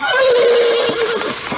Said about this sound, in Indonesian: kuda sakti yang sangat penurut itu tiba-tiba saja membuat ulah dan tidak mau beranjak dari tempatnya